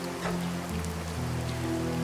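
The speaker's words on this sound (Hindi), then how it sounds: "बारिश की आवाज और तेज हो गई।" Rain falls steadily as an effect in an Urdu audio drama, a dense, even patter of drops on a surface filling the whole stretch at a constant loudness, with no voices over it.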